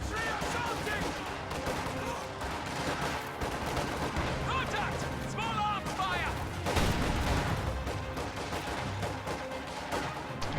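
Combat in a strategy video game as a Molotov is thrown at Panzer Fusiliers, under a dense, continuous barrage of gunfire, machine-gun bursts and explosions that stays loud throughout with scattered battlefield voices.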